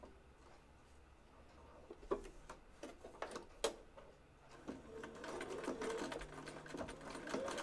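A sewing machine stitches an elastic waistband for women's underwear in a circle, starting with short stop-and-go bursts of needle clatter, then running steadily and more loudly toward the end, with no talking.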